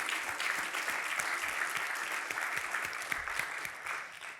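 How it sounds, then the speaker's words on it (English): Keynote audience in Orlando applauding, a soft, steady spread of many hands clapping together that sounds somewhat distant and holds evenly throughout. "So a round of applause to everyone."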